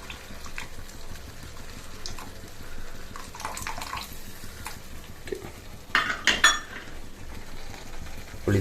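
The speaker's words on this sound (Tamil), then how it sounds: "புளி தண்ணி ஊற்றி வச்சு" Tamarind water poured into a simmering sardine fish curry in a pan, a soft liquid splash and bubbling with a few brief louder clinks and stirs near the end, fairly quiet and close.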